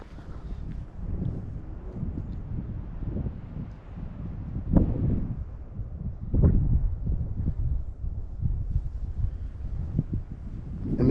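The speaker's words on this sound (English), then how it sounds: "it's a little windy right now" Wind gusts steadily across an exposed mountain summit on a hike up Yonah Mountain, a loud, continuous rumble with stronger buffets rising and falling, close to the microphone.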